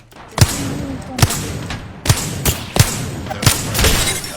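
Gunfire in a shooting video game: six or seven loud, sharp shots spaced roughly every half second to second, each ending in a short boom, with no talking.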